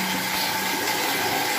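Water runs steadily and loudly from a tap while a face is being wetted during a skincare routine. The rush is close and continuous, with no talk over it.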